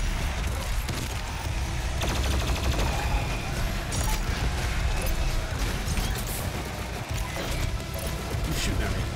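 Gunfire in DOOM Eternal, rapid dense bursts of shots over heavy continuous combat noise with deep rumbling underneath.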